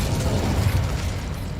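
Fire spell cast in Hogwarts Legacy, a dense low rumbling whoosh of flame with crackling bursts, sustained and loud for its whole short length with no voices over it.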